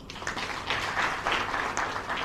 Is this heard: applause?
yes